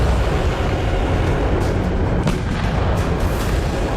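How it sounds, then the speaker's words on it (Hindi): An explosion from a drone attack on the Kremlin comes through as a dense, continuous roar of low rumbling and noise, loud and unbroken, with faint sharper bursts mixed in. "जब से क्रेमलिन की बुनियाद रखी गई तब से पहली बार क्रेमलिन में कोई विस्फोट हुआ है"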